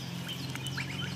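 A few short duck quacks over a low steady background hum, brief and moderately close.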